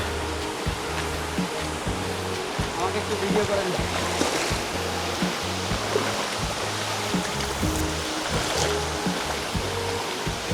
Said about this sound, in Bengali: সম্ভবত আমরা ধূপপানি ঝর্ণাতে চলে এসেছি